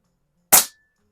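A single sharp shot from a PCP target air pistol fired one-handed in competition shooting, a Hammerli AP-20 or Air Venturi Comp10, crisp and close with a quick decay and quiet surroundings.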